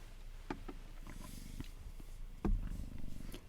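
A cat purrs close by in a low, rhythmic rumble, with a few louder breathy pulses and a stronger burst toward the end.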